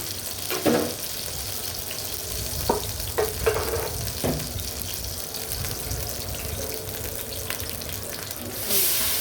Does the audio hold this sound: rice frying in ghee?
yes